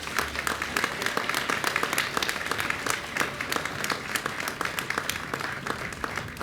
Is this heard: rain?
no